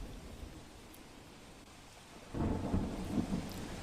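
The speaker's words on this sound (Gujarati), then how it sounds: "વલસાડ શહેરમાં સતત ત્રીજા દિવસે ધોધમાર વરસાદ પડી રહ્યો છે" Heavy monsoon rain in Valsad, a steady hiss of downpour with a deep rumble of thunder swelling in halfway through and rolling to the end.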